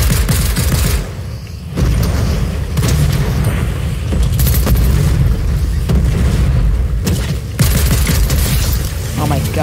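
Burst assault rifle firing in Fortnite, repeated loud bursts of gunfire in quick succession over a game soundscape, continuing through most of the stretch with brief pauses.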